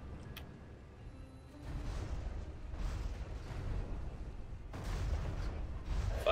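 Ironclad ship cannons in ArcheAge boom in a few heavy, rumbling blasts spaced a couple of seconds apart, fairly low and muffled, with no talking.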